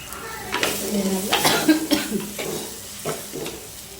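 Chili powder sautéing in oil in a clay pot while anchovy fish curry is made, with a spoon scraping and stirring in bursts over a low, soft sizzle, close by and fairly quiet.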